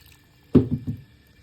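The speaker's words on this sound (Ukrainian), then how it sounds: "тепер беремо, додаємо водичку" Water poured into okroshka made with crab sticks and avocado, a short splashing pour of about half a second with a few trailing gurgles, near and fairly quiet.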